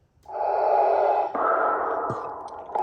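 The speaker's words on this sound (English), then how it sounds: "I even put Vader's breathing on here." Darth Vader's mechanical breathing plays as a background track from an Empire Strikes Back Graflex lightsaber: a loud, hissing inhale followed by a rasping exhale, close and unaccompanied by talk.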